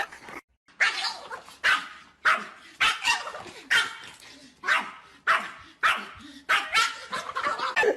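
A dog barks in about ten sharp, evenly spaced bursts, close and loud, with brief pauses between each bark and no other sound around.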